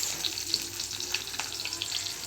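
Onion and garlic sizzle in oil left over from frying fish, a steady close crackle with small pops throughout and no speech.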